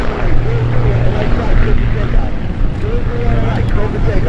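A light aircraft departs during busy rapid-fire takeoffs at Oshkosh EAA AirVenture, its propeller engine a steady loud drone with a low hum, while a voice talks over the noise.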